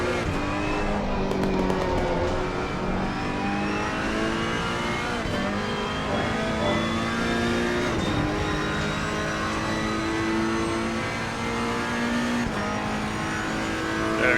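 Ferrari EVO GT3 and other GT3 race cars racing at Paul Ricard in a racing video game, engine revving up and down through gear changes with tire squeal, loud and continuous.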